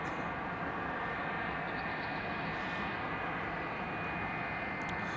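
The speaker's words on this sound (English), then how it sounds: "Good old JT-8D powered DC-9. This thing's going to make some noise." Steady, loud jet engine roar from a JT8D-powered McDonnell Douglas DC-9, a broad continuous rumble and whine holding level throughout without pause.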